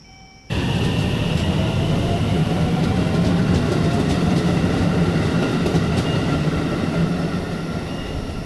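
Train pulling into a station in Shizuoka, Japan, a steady loud rumble of wheels and carriages that starts abruptly and holds for several seconds, with faint clicking rail joints and a slight easing toward the end.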